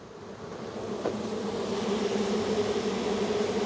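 Honeybees swarm around frames of honey in hot weather, giving a dense, continuous buzz that is loud and close and grows slightly fuller throughout, with no voices.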